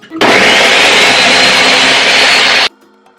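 A blender whirs loudly at high speed for about two and a half seconds, then cuts off abruptly into near silence.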